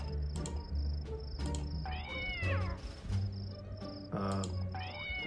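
A cat in the alien-creature video game The Visitor gives several rising, drawn-out meows amid chirping insect-like game ambience and sharp clicks, with a person speaking in between.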